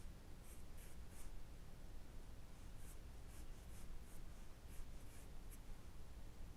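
A pencil sketching a tiny figure-drawing study of a hand: quiet, fast, scratchy strokes in short bursts, very close, soft and continuous, with no talking.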